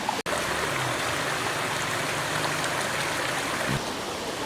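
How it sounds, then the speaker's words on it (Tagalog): Water rushes steadily over an old river dam in Patuyaw, Sebaste, Antique, making a continuous broad roar that stays loud and even throughout, with no voices. "Yan, dito na po yung dam."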